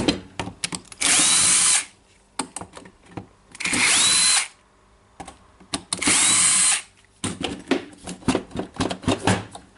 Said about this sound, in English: I will try to unscrew these three screws and check the motor.